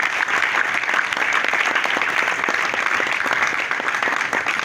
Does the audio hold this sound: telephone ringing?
no